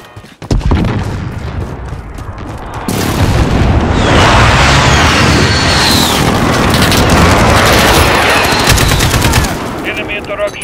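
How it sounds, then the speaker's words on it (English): Enemy precision airstrike in Call of Duty: Modern Warfare multiplayer, heard as a loud, sustained roar of explosions and rapid gunfire rolling on for several seconds before easing off. "Enemy precision airstrike inbound."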